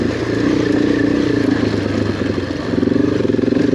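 A big adventure motorcycle rumbling along a rough off-road trail, its engine droning steadily up close with rattling and clatter from the bumpy ground.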